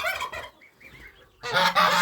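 Goslings honk nearby in two loud, harsh bursts with soft, faint peeping calls in the pause between them.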